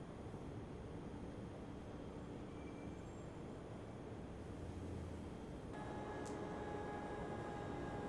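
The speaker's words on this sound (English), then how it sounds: "Oh, sounds like a train coming in." Subway train in Train Sim World 2022 arriving at a station, a faint continuous low rumble that steps up in level partway through with added tonal hums and a brief high squeal.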